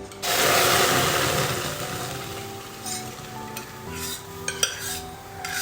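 Boiled lentils (dal) sizzle and are stirred in a kadai, a broad hissing fry with scraping spoon strokes and a few light clinks, close and steady without talk.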